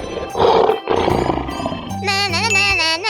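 A lion roars in a 3D animal sliding video game, a loud, rough burst over game sound effects, followed by a bright musical jingle with layered tones.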